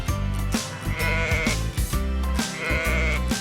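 A ram bleats a couple of times over a steady, bouncy music backing, the bleats rising above the beat at moderate volume.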